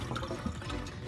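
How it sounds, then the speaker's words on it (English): Water pours and splashes out of a container holding a submerged Olight S30R Baton III flashlight, a brief continuous gurgling, sloshing rush heard up close with no speech. "I'm gonna empty a little water out of it, make sure it's still submerged."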